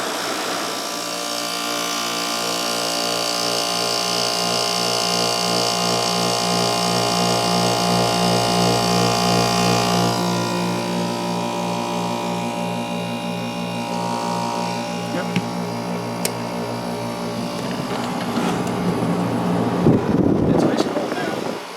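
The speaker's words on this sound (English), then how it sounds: "Let me stall the fan so we can just hear the compressor here." A 1994 Amana CoolZone 6,500 BTU room air conditioner runs with its fan stalled, leaving a steady, loud compressor hum and drone. A brief louder rattle and shift comes near the end.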